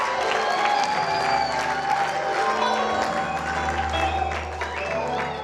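A church congregation at an evangelical centre's tenth anniversary breaks into applause and cheers, a busy wash of clapping and voices with some low rumble beneath, steady throughout.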